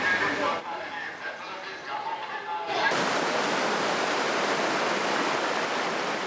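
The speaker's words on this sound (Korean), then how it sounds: "시원하게 흐르는 계곡의 물소리를 들으며" A valley stream in Borjomi National Park rushes in a steady, full broadband wash after a short, quieter opening where a voice is briefly heard.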